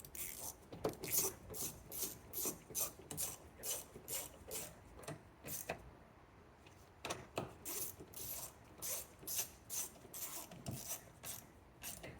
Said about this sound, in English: And then just tightening up our 10 millimeter bolts.